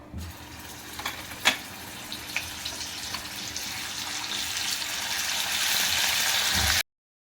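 Mustard seeds, cumin and ginger-garlic paste hitting hot oil for a Maharashtrian tomato chutney: a few sharp pops at first, then a hiss that swells steadily louder before cutting off abruptly.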